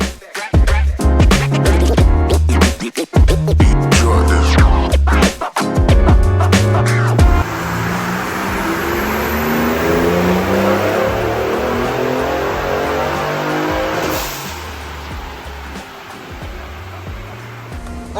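2019 Ford Raptor fitted with a GT750 turbo kit on a dyno, revving up with rising engine pitch through the gears, loud and close, then holding a long sustained full-throttle roar before backing off near the end.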